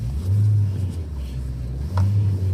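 A right-hand-drive Japanese import car with a real engine drives along, its engine giving a low rumbling drone that swells twice as it accelerates, heard from inside the cabin.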